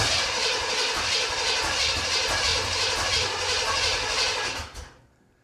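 A crate motor in a 1979 Corvette cranks and roars to life, running loud and rough at close range for several seconds before cutting off abruptly near the end.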